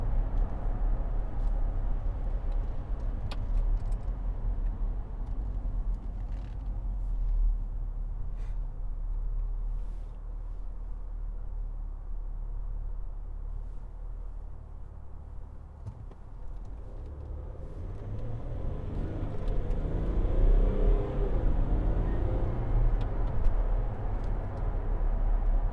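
A 2012 Range Rover Sport 3.0 SD V6 HSE pulls away with a smooth, low, steady engine rumble, and the drone swells slightly near the end under a faint whoosh of wind and road noise.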